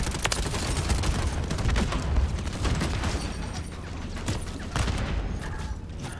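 Rapid bursts of gunfire in Call of Duty Modern Warfare 3, with the Ram-7 rifle in use. Dense automatic fire and booms run loud and nearly without a break for the whole stretch, and there is no talk.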